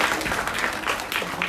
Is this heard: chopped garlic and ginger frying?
no